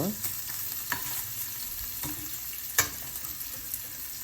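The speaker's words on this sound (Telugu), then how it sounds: "నెత్తలు నెమ్మదిగా ఎగుతున్నాయి సిమ్ సిమ్ చేసి పెట్టాను స్టవ్" Small fish fry slowly in a pan over a low flame with a soft, continuous sizzle. Occasional light taps and scrapes come from stirring.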